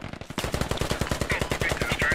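Rapid automatic gunfire from a squad-based video game shooter, a fast steady stream of sharp shots, loud and close, set against faint background voices.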